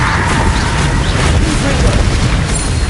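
A Bombarda spell explodes in the Hogwarts Legacy video game, a loud, sustained booming blast with a rumbling roar filling the whole moment without a break.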